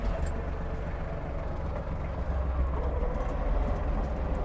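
An Iseki TG-273 Japanese mini tractor with a speed gearbox drives in a faster gear, its engine a steady, dense, close rumble that holds even throughout, with no talking.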